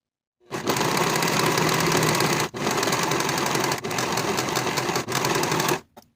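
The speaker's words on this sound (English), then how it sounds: "I'm going to be using my serger." A serger overlocks the raw edges of fabric for a peplum top in a loud, close, continuous mechanical whir, running in three long bursts split by brief pauses before stopping.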